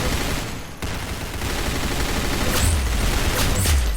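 Gunfire in the video game Arsenal, a dense continuous burst of shots with heavy booming thumps near the end, loud and close throughout.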